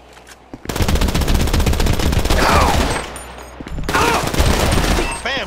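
Gunfire in Grand Theft Auto V comes as two long, loud bursts of rapid automatic shots separated by a brief lull, with a short clipped burst at the end.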